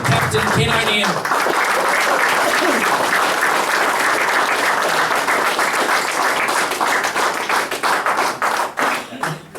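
Reunion audience applauding loudly for a premiership captain, dense close clapping sustained for several seconds with a voice briefly at the start, then thinning toward the end.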